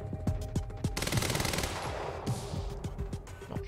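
Rapid automatic gunfire rattles in the video game Quantum Break, dense bursts of sharp shots with a quick steady rhythm and reverberant crackle, loud and close.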